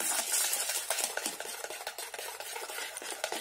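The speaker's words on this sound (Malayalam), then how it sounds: "ഈ പഞ്ചസാരയെ മുട്ടയായിട്ട് വീണ്ടും നന്നായിട്ട് ഒന്ന് ബീറ്റ് ചെയ്ത് എടുക്കണം" Eggs and powdered sugar beaten by hand in a bowl for a no-oven sponge cake, a quick rhythmic clatter of the whisk or spoon against the bowl sides, close and continuous with no talking.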